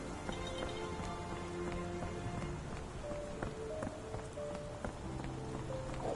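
In Sherlock Holmes: The Awakened, horse hooves clip-clop faintly over a rainy backdrop, a soft irregular clatter of steps under steady hiss.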